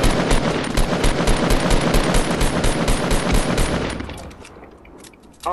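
Sustained rapid automatic gunfire from a multiplayer shooter game, dense bursts of shots from two teams fighting below, loud and continuous for about four seconds before tapering into quieter scattered shots.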